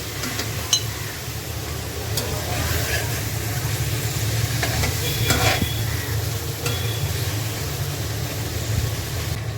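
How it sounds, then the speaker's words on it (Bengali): Stinging catfish and climbing perch fry in a spice paste, giving a steady, close sizzle that holds for the whole stretch, with occasional light scrapes and clatters from stirring. "মশলা কষানো হয়ে গেছে এখন দিব শিং মাছ ও কই মাছ"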